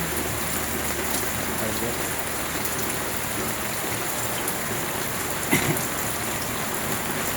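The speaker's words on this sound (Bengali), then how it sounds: "খুব বৃষ্টি হচ্ছে সকাল থেকে নিয়ে কোনো বৃষ্টি ছাড়ছে না" Heavy rain falls in a constant close roar of drops on surfaces, with one brief thump partway through.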